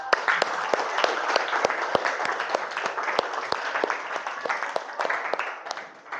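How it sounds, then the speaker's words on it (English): A small class of students applauds in a classroom, sharp individual claps standing out in a fairly close, moderately loud patter that runs steadily for about six seconds before tapering off. "Give applause for us."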